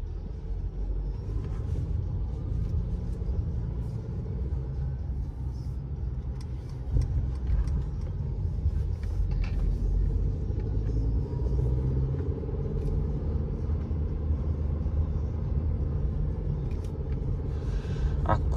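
A 2017 Mercedes C180 on a morning drive gives a steady low rumble of road and engine noise from inside the cabin, continuous and even throughout with no talking.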